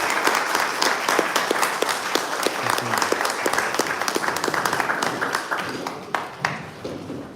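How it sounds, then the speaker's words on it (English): Steady, full audience applause fills a live-streamed stage event after the Sisters of Little Women perform, a dense patter of many hands that tapers off near the end. "Let's give a big round of applause to the Sisters of Little Women"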